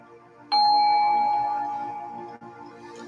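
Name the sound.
meditation bell ringing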